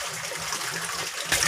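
Water pours steadily into a koi quarantine tank set in a pan, part of a DIY pond made from recycled materials, making a continuous close splashing hiss that swells louder near the end.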